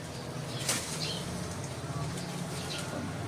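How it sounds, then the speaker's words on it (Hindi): Pigeons taking off and landing, several quick bursts of wing flapping over a steady outdoor background hum, moderately close, with faint cooing in between. "कबूतर का टेक ऑफ करना और लैंडिंग क्लास की चीज है।"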